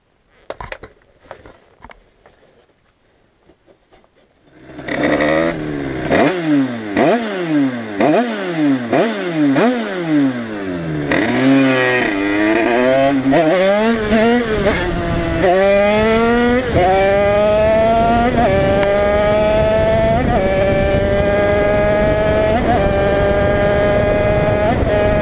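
Rieju MRT Pro 86 motorcycle with an aluminium top end and Keihin 36mm carburetor, first a faint idle, then a loud two-stroke engine revving hard in repeated rising bursts before settling into a sustained high-pitched run as the ride starts.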